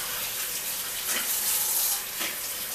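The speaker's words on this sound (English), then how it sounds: "Okay, I'm just washing out my other cup." Tap water runs steadily into a sink while a cup is washed out, a close, continuous rushing splash with slight swells, no talking over it.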